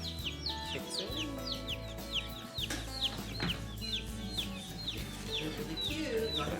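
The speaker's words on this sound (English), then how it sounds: "We're gonna get the chicks out back." Broiler chicks peep in a brooder, with a steady stream of high, quick chirps from several birds close by over low background hum.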